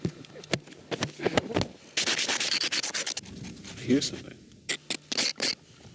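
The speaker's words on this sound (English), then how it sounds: "That's the sound of sand being scraped off my lunch." Gritty scraping and rubbing of sand being brushed off bread baked in the desert, coming in short bursts and a longer rasping stretch, close and fairly quiet, with people talking briefly around it.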